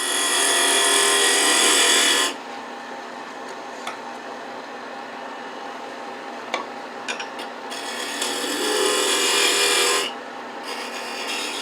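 A beading and parting tool cuts a dovetail tenon on a lathe, giving a steady hissing scrape in two long bursts separated by quieter spinning with scattered clicks.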